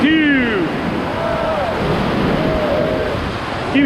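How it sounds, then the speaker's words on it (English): River rapids churn around a raft on the Ocoee River, a loud continuous watery roar and splash with people calling out over it. "Don't be scared of them waves"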